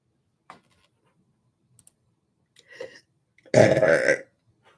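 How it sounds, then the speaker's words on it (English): A single loud, drawn-out burp from a person during a live psychic reading session, preceded by a few faint clicks and a soft murmur. "Spirit makes me burp as well"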